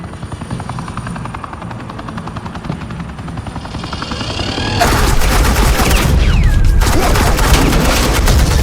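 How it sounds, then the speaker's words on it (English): Suppressing gunfire in Batman The Enemy Within, rapid bursts that start beneath a loud helicopter rotor thump and swell into a dense, continuous barrage for the last few seconds. "Suppressing fire."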